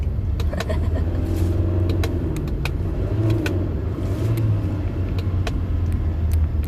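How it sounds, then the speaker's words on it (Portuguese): A car engine idles and rumbles steadily at close range after the gear is shifted by accident. Faint clicks and knocks sit over the low, continuous hum, with no talking. "Mudei a marcha do carro sem querer."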